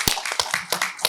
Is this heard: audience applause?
yes